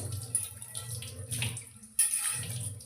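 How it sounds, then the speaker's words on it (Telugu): Tap water runs steadily and splashes over an iron dosa pan, with a brief clatter and a louder gush near the end. "ఇప్పుడు దీన్ని వాటర్ తోటి క్లీన్గా కడుక్కోవాలి"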